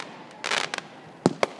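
Consumer fireworks going off in a backyard on New Year's Eve 2013: a burst of crackling pops followed by two sharp, separate bangs at moderate distance, with no voices.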